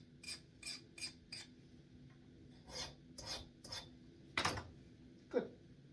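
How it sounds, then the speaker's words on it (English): A metal file rasps across a hardened knife blade forged from a drill bit, skating over the surface in several short, close strokes with a few sharper scrapes near the end, and no talking. "It's nice and hard. It skates the file."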